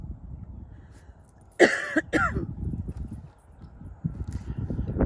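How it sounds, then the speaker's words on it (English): Two rough coughs in quick succession, close and loud, in chilly outdoor air, surrounded by quiet outdoor rumble and shuffling. "I'm starting to cough"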